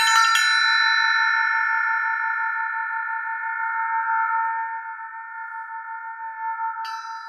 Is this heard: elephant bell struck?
yes